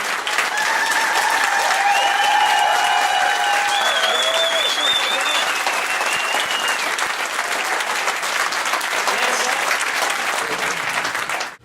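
Loud, sustained applause from a crowd at a national party council, thick and continuous with a few whistles over it, then cutting off abruptly at the end.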